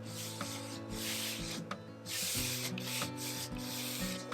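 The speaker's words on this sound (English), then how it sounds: "I'm waxing everything now" Hand rubbing of paste wax into a lacquered wooden finish, lightly sanded with a 600 grit pad, giving a steady close scratchy swishing in repeated strokes, with a faint tonal hum beneath.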